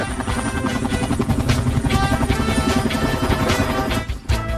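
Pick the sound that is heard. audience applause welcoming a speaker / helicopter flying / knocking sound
helicopter flying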